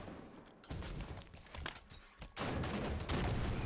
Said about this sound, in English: nice rocket there from Flames